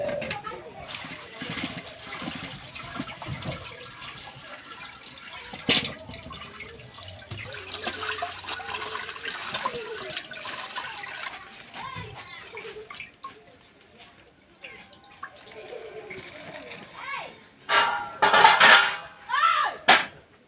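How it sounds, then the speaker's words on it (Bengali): Spinach leaves being washed by hand in water, with faint splashing and dripping trickles across the span, a louder burst of water near the end, and a voice talking in the background. "এখন পালং শাকগুলো ভালো করে ধুয়ে নেব।"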